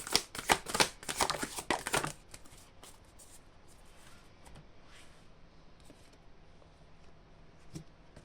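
Tarot cards are shuffled before a reading in a quick run of crisp riffling snaps over about two seconds, followed by quieter scattered card handling and faint taps.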